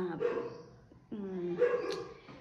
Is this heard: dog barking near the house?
yes